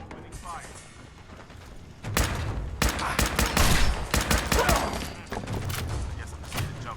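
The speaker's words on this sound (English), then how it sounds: "Opening fire." Heavy gunfire in the video game Fallout 4 erupts in rapid, loud bursts of overlapping shots and thuds, with a voice talking over the action.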